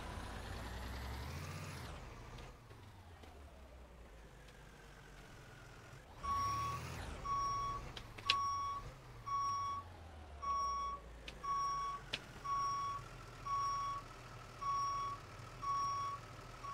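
Fire truck reversing beeps in the game Into The Flames, a steady run of about a dozen evenly spaced electronic beeps over a low idling engine, with an air-brake hiss before they start.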